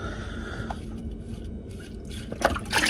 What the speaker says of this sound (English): as you can see, it's already dripping, which means there's definitely more going to come out of there